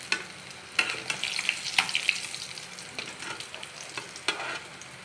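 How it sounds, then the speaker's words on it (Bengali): Katla fish, five pieces, frying in hot oil in a pan, a steady close sizzle with crackling bursts and occasional stirring scrapes, no voices. "মাছগুলো সব আমি ভাজতে দিয়ে দিলাম 5 পিস মাছ আছে।"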